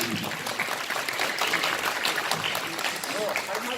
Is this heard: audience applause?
yes